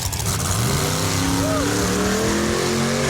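A drag racing car makes its pass down the strip in Montgomery, Alabama, its engine note climbing steadily as it pulls away, loud and continuous, while commentators talk over it.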